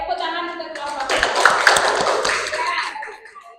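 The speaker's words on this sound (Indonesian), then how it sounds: "tepuk tangan untuk kelompok" Applause from a group of students in a university classroom, a short burst of many hands clapping that swells in the middle and fades near the end, with voices mixed in.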